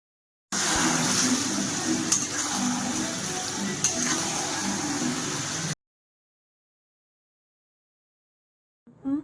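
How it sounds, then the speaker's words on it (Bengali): Onions frying in a pan, a steady broadband sizzle close by for about five seconds, then abrupt silence with a brief faint sound at the very end. "এখন পেঁয়াজ ফ্রাই হচ্ছে"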